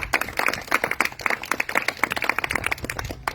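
Rhythmic, close hand clapping from a church congregation during a Spanish-language service fills the clip, steady and fairly loud with no talk over it.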